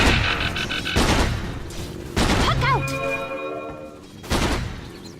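Flak Cannon attack in the Dota 2 mid lane, a rapid burst of booming shots followed by ringing, pitch-bending magical effects, with more heavy blasts recurring through the few seconds.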